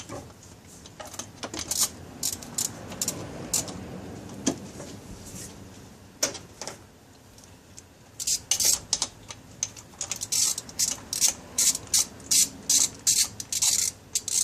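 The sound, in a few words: ratchet wrench tightening throttle body bolts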